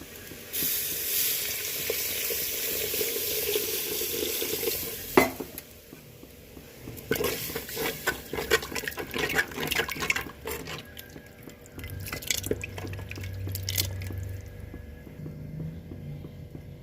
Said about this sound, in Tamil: இப்போ நம்ம எவ்வளோ குழம்பு தேவையோ அந்த அளவுக்கு நம்ம தண்ணி சேர்க்க போகிறோம்.